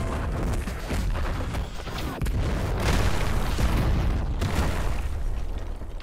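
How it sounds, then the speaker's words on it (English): Dense, booming bursts of explosion effects from an explosion combo finisher attack in the Heroes Battlegrounds video game, several heavy blasts in quick succession filling the whole stretch without any talking. "Explosion combo finisher."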